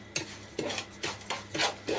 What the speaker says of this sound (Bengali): চিনিটাকে একটু ভেজে নিচ্ছি, আমি একটু ব্রাউন কালার করে নিব